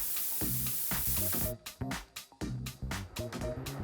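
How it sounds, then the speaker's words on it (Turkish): White spray paint hisses steadily from a can onto a cardboard shoe box, a close, continuous spray for about a second and a half before it gives way to choppy, intermittent sounds. "Kutuyu beyaz sprey boyayla boyayalım."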